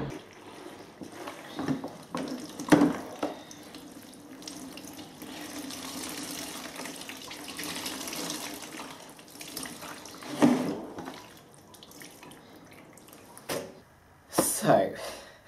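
Velvet fabric being rinsed and washed under a running tap in a sink, a steady stream of water with occasional louder splashes and handling bursts, fairly close, with a voice speaking over it at times.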